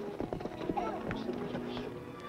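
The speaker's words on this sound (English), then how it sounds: "There isn't a horse in the state that can beat Fury." Horse hooves clatter in a quick clip-clop during a race to the gate in an old TV western, heard under excited talking.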